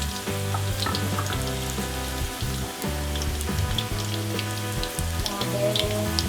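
Shallots and garlic frying in oil for tomato sambal, a dense continuous sizzle with scattered popping crackles over a low, uneven rumbling hum throughout, no talk.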